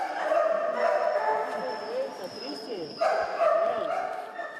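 Dogs at an animal shelter bark and yip repeatedly, loud and close, with whining in between and people talking underneath.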